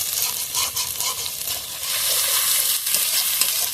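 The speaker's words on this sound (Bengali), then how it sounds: "ভেজে নিতে হয় তেলে ভালোভাবে।" Tomato, ginger and garlic fry in hot oil for a soybean and egg curry, giving a steady, close, dense sizzle with soft stirring scrapes throughout and no talking.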